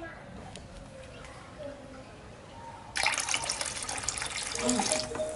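Liquid bacteria starter being poured into a mango-leaf liquid organic fertilizer mixture, a steady splashing pour that starts abruptly midway and runs for a couple of seconds over a quiet room background.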